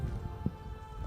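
Soft, steady rain patters on a surface with a low rumble underneath, one slightly louder drop standing out.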